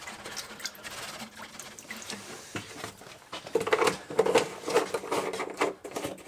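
Liquid poured into a container at room temperature, ahead of dry ice being added for steel heat treating; soft irregular splashing and trickling, fairly quiet, with patter growing busier toward the end.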